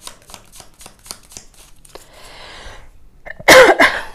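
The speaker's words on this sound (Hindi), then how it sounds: "सॉरी गाइज, मेरी खांसी।" A single loud, close cough bursts out after a stretch of quiet rustling and soft handling noises, followed by a smaller second cough.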